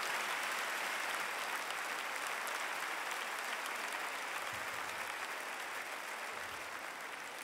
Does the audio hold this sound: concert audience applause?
yes